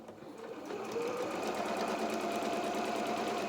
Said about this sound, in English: and then I just start sewing